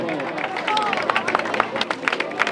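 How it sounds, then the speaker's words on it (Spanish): A crowd applauds at the finish of a rural country race, with scattered close hand claps under lively chatter and babble from people nearby. "Bravo, un aplauso."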